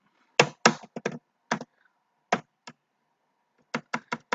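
Python code being typed on a computer keyboard, with close, crisp keystrokes in short irregular clusters separated by pauses, no talking.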